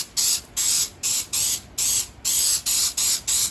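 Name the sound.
cooking spray sprayed onto baking pan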